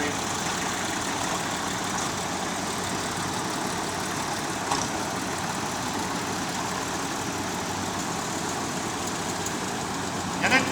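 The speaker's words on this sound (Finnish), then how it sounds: "Sieltä tulee Fortson, Ivalan mies, Mikki Vähäho, omistaa tuon traktorin." A Fordson tractor engine runs steadily at a vintage machinery show, a continuous rough mechanical drone with broadband noise that stays level throughout, and faint talk from the surrounding crowd beneath it.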